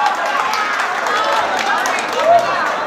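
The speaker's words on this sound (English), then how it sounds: "Crowd loving the action." A crowd at a Philippine flyweight championship boxing match cheers and claps in a steady, dense roar of mixed voices and applause, with no talk standing out.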